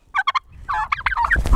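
A male turkey gobbles up close in quick bursts, a rapid burbling call repeated several times against a quiet background.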